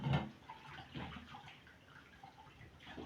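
Fresh onions are rinsed in water, giving quiet, soft splashing and trickling sounds with a brief louder slosh at the start.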